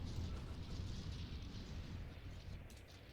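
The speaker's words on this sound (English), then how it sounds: "we've got 4 rockets coming in" Rockets slam down in a video game free-for-all match, a dense, continuous rumble of explosions with heavy low-end booms rolling steadily and fairly loudly for a few seconds.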